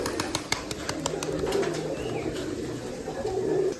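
Giribaj-type pigeons at a pigeon farm cooing softly in low repeated calls, with clicks and wing flutters over a busy outdoor background.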